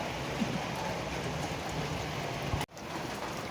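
The first summer rain falls in a steady patter on surfaces nearby, with a brief sharp dropout near the end and no voices.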